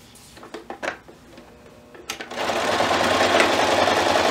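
A few sharp clicks and handling knocks come first, then a sewing machine starts up and stitches continuously up close, sewing the corners of a fabric box pouch.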